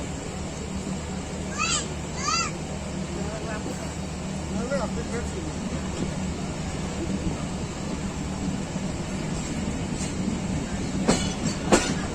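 Tezgam passenger train of Pakistan Railways rolling slowly through a station, steady clickety-clack and rumble of wheels with occasional squeals and whistle-like chirps, heard from aboard for over ten seconds.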